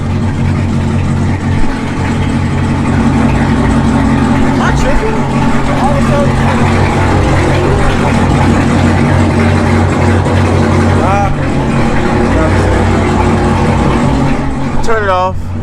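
A Chevrolet Camaro ZL1 engine runs steadily at a low rumbling idle with a persistent service battery charging system warning, continuous and close throughout with brief faint chimes.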